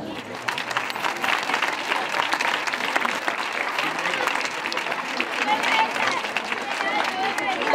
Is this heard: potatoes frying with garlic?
no